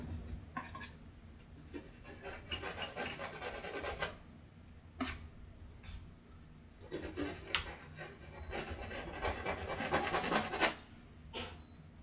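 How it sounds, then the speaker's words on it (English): A palette knife rubbing white oil paint into canvas during a landscape painting, giving a soft repeated scraping rasp in short strokes and longer passes, close and fairly quiet. "Just kind of rub this into the canvas."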